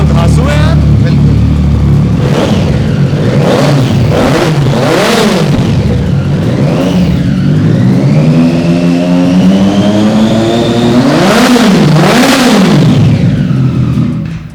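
A loud superbike engine revs repeatedly, rising and falling in sharp bursts, then settles into a long climbing whine before more hard revs.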